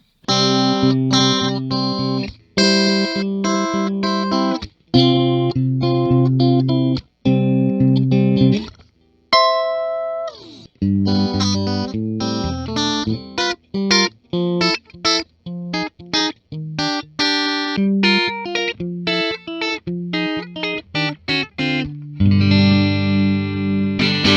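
Clean tone from an Ibanez Ichika Nito ICHI10 headless guitar with two pickups combined, playing bright chords and picked melodic runs through effects, close and steady with short breaks between phrases.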